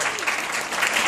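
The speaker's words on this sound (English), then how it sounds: "Give her a big round of applause." An audience at a Nu Skin presentation gives a big round of applause, a dense, even burst of clapping that holds steady for about a second.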